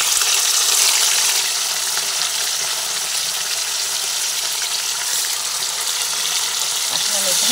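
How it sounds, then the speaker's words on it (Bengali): Pieces of catla fish fry in hot oil in a wok, giving off a loud, continuous crackling sizzle that stays close and even throughout. "তেল গরম হয়ে গেছে, সেজন্য মাছগুলো আমি তেলের মধ্যে দিয়ে ভেজে নিচ্ছি।"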